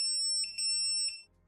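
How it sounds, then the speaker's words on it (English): The module buzzer on a Bambu Lab X1 Carbon 3D printer sounds as a piercing, steady high beep, pulsing in a few quick bursts over a low rhythmic hum, then cutting off. "as you guessed, you can also test the buzzer. It's pretty loud and piercing."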